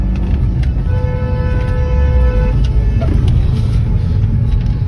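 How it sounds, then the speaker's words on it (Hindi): Engines of a Hyundai Venue Turbo and a Verna at a drag race rumble loudly and continuously nearby, with a rising whine of acceleration and some voices in the background. "ड्रैग रेस होने वाली है वरना, और वेन्यू टर्बो की"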